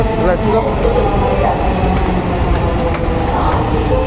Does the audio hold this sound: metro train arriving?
yes